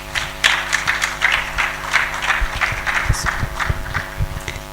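An audience claps at the launch of a national agriculture hotline in Nigeria, a lively round of many hands close by, steady and sustained with sharp individual claps standing out.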